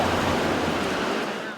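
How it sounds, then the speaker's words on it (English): Ocean waves wash onto Gooch's Beach on a cold December morning, a loud, close, breathy rush of surf that fades slightly at the end. "The waves are peaceful."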